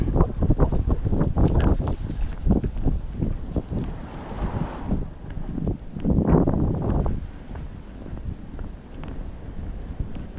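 Strong gusting wind buffets the microphone in loud, uneven bursts during a night walk outdoors in Maine, with lulls between gusts and no talking.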